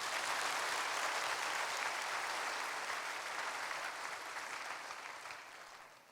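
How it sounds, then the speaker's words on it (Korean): A large congregation at a Korean church thanksgiving evening service at Hansomang Church claps loudly and continuously, a dense even wash of applause that tapers slightly toward the end, with no talk. "박수를 치실 거면 세게 치셔야 됩니다."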